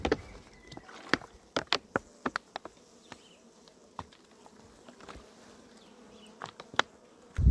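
Honeybees at a beehive during spring colony care, with a faint buzzing background and scattered close insect passes and light knocks at irregular intervals.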